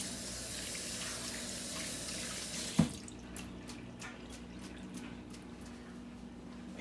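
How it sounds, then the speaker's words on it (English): A tap runs steadily into a sink while hands are washed with soap, a faint continuous splash broken by one sharp knock midway, then lighter trickling and drips. "Wash both sides of your hands, in between your fingers, under the fingernails."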